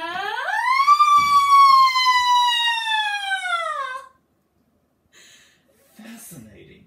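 Voice imitating a siren: a lyric soprano sings a single vocal siren glide with the tongue stuck far out, sweeping upward and holding high before sliding down, followed by brief quiet and faint sounds.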